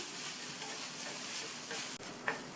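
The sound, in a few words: coconut mixture sautéing in oil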